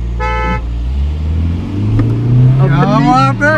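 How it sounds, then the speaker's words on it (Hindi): A steady car horn sounds briefly near the start of a drag race between a Hyundai Creta Turbo and a Verna 1.6 diesel, followed by a running engine and vehicle noise with voices talking over it. "भाई वैसे हम 3 बार हॉर्न बजाएंगे, उसके बाद राउंड शुरू होगा।"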